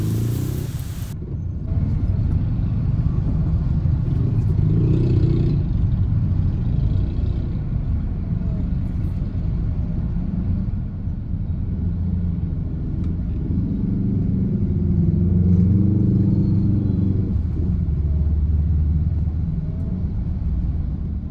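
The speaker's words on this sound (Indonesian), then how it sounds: "Wah ini macet parah di sini. Ini sore pun udah macet kayak gini," Heavy evening traffic jam on a road through Deli Tua, with a steady low rumble of idling and creeping car and motorcycle engines close by and continuous for the whole stretch.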